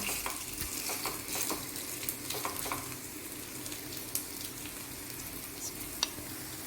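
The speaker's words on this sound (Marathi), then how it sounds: "आता या सगळ्यात आपण तो बॅटर टाकला आहे त्याला अर्धा मिनटं गरम व्हायला शिजायला ठेवायचा आहे" Egg appe batter sizzling steadily in a hot appe pan, a continuous close frying hiss with occasional small pops and faint clicks, no talking.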